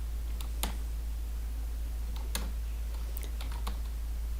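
Sparse clicks of a computer keyboard as CSS code is typed, with a few quick keystrokes in small bursts over a steady low electrical hum.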